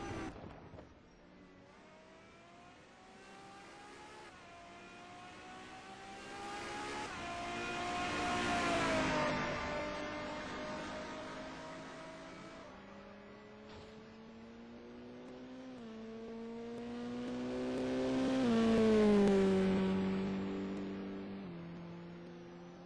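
Racing cars lapping Donington circuit during a practice session, engine notes rising and falling in pitch as cars pass at a distance, with two main swells of sound and quieter gaps between them.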